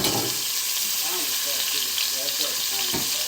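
Onion frying and stirred with tomato in a pan, a steady loud sizzle with scraping stir strokes throughout.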